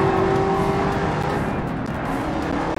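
A race car drifts in the GRID Legends video game, its engine droning loudly and steadily under a sustained tire squeal that runs the whole stretch without a break.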